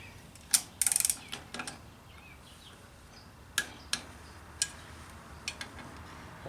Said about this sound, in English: Now I'm going to go ahead and torque it down to the 18 pounds.